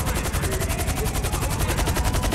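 Gunfire in the video game Grand Theft Auto V, a rapid, evenly spaced burst of automatic shots rattling continuously over a dense low roar, loud and close with no talking.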